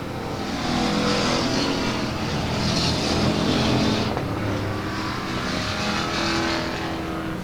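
Race cars at South Texas Speedway roar continuously around the oval, engine noise swelling and fading as the field passes, loud and dense throughout with no talk.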